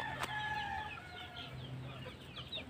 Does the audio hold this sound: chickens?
yes